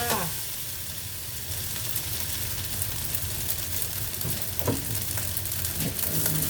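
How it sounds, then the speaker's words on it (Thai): Kimchi fried rice with plenty of sesame oil stir-fries in a pan with a strong, constant sizzle, and spatula scrapes and taps grow more frequent toward the end. "ตามด้วยน้ำมันงา น้ำมันงาใส่เยอะหน่อยนะคะ จะได้หอมๆจ้า ผัดเลยนะคะ"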